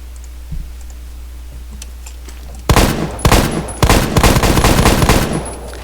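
Scar SSR rifle firing in the video game Phantom Forces: after a quiet start, loud, close bursts of rapid shots ring out in quick succession for the last few seconds.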